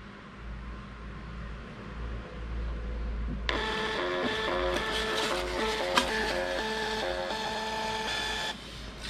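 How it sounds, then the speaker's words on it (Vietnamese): A handheld Bluetooth thermal printer prints a sales receipt, starting with a sudden whirring buzz after quiet room tone, then chattering rhythmic printing bursts for about five seconds before stopping abruptly. "Rồi mình cũng lấy cái đơn nãy mình in cho các bạn xem luôn ha."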